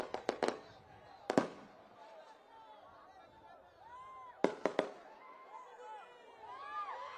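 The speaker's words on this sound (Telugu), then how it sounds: "టపాసులు ఆపండ్రా బాబు." Firecrackers going off at a political rally: sharp clustered bangs in quick bursts, a single crack, then another rapid volley, with whistling rocket streaks and crowd noise in between, loud and near.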